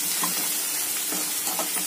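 Onions with chili powder and salt sizzle in a hot pan while being stirred, with a continuous frying hiss and soft scraping strokes of the spoon.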